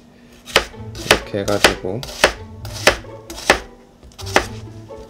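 A knife chops ingredients for a French Alpine tartiflette on a cutting board, about eight sharp separate thuds at an uneven pace, close, with a voice speaking briefly between cuts.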